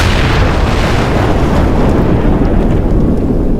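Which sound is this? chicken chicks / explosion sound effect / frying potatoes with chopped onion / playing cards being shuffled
explosion sound effect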